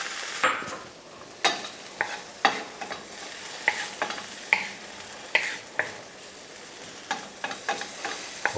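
Ingredients for a wagyu bolognese stirred in a lightly oiled pan on low heat, a soft sizzle under repeated scraping stirs and utensil taps.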